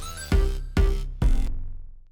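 A hyperpop synth arpeggio of three evenly spaced stabs with bright harmonics and a deep low end, each ringing out before the next, the last one fading slowly.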